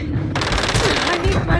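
Rapid automatic gunfire in the combat video game Warzone 2 on Ashika Island, dense loud bursts rattling throughout the short moment amid other game sounds and a voice.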